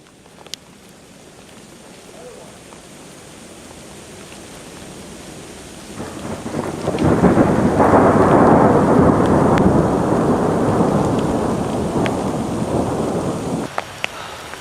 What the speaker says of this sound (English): now the rainstorm is on us, and it is thundering all around